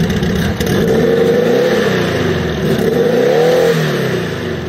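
A turbocharged Volkswagen Beetle engine revs hard and accelerates, a loud, close, continuous roar that rises and falls in pitch with no talking.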